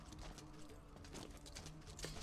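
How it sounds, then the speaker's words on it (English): Horse hooves clip-clop in the background of the sword-fighting video game Hellish Quart, a soft, irregular patter of steps mixed with faint game noise over about two seconds. "nice horses in the background"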